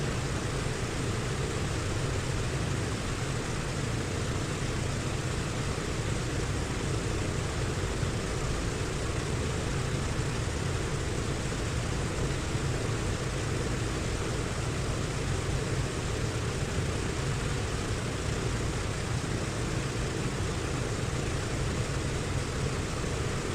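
A DC-6A piston airliner taxiing in a flight simulator, heard as a steady broadband engine drone that stays level and unbroken for over twenty seconds, with no talk.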